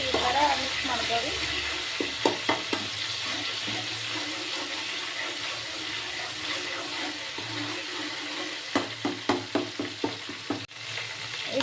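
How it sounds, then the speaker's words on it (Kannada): Garlic and ginger fry in hot oil in a pan while being stirred for a Hyderabadi chicken masala, giving a steady close sizzle punctuated by clusters of scraping, clinking stirring strokes near the start and again toward the end. "ಚಲೋ ನನಗೆ ಎಣ್ಣೆಯಲ್ಲಿ ಫ್ರೈ ಆಗೋ ರೀತಿ ಈ ಥರ ಮಿಕ್ಸ್ ಮಾಡ್ಕೋರಿ."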